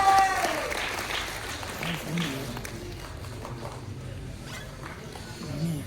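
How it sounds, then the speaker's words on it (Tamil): Loud applause from a crowd at a media event speech, clapping strongest at the start and then easing off into a steady patter. "ஒரு பெரிய கைத்தட்டலோட அவரை பேசுறதுக்காக கூப்பிடலாம்"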